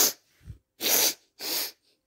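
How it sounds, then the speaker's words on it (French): A child sniffs instead of blowing the nose during a classroom reading or dictation, several short, breathy nasal snorts close up with brief pauses between them. "Qu'on renifle pendant la lecture ou la dictée au lieu de se moucher."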